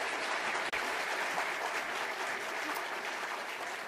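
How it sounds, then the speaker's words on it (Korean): A crowd at a Korean minister's farewell event breaks into steady, dense applause that fills the hall for the whole stretch, loud and even, with no voices on top. "큰 박수로 모시겠습니다."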